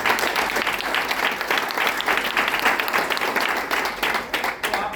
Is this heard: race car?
no